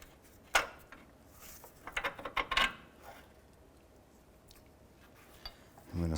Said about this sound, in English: we're going to go ahead and try and remove this bolt here